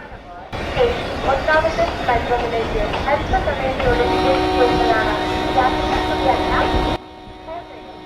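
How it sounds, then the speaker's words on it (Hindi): LHB coaches roll along the track in the Railworks train simulator, producing a continuous loud rumble with rhythmic rattles and a sustained whine that cuts off abruptly near the end, with faint voices mixed in. "आप लोग कमेंट करके ज़रूर बताइएगा कि LHB की ट्रैक साउंड आपको कैसी लगी"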